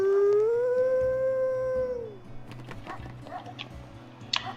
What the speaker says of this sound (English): So we're gonna go ahead and howl and mark this carcass.